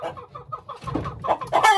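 A crossbreed hen sired by a Marans rooster clucks close by in a quick run of short, soft notes that grow louder and busier toward the end, with no talking.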